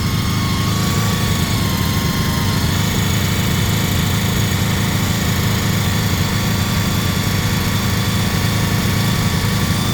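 A 2001 Honda VFR 800 motorcycle engine held at about 3,000 RPM, a loud, close, steady mechanical drone with no pauses and no talk.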